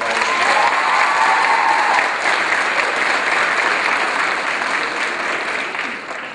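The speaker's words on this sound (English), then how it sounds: "let's have the graduates please give the family members a round of applause" Applause rises from a graduation ceremony audience at Roosevelt Alternative High School, graduates clapping for their families: a broad, dense sustained roar of clapping that holds steady, then eases slightly toward the end.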